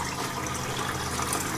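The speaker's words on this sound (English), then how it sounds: "running the hot water." Hot water running from a tap in a tiny house fed by a propane tankless water heater, a steady hissing flow with a faint low hum underneath, constant and close, no speech.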